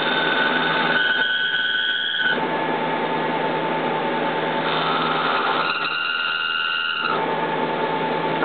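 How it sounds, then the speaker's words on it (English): A threadmill cuts Delrin stock sticking up from the vise of a Haas TM-1 CNC mill. A steady loud machining whine is layered with high ringing vibration tones that come and go in two stretches. "Hear some vibration from the Delrin sticking up out of the vise."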